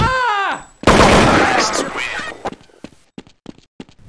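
Gunfire in the video game Counter-Strike: Condition Zero, a loud dense burst of shots with other game sounds, followed by scattered sharp cracks and footstep-like taps fading out, mixed with shouted voices.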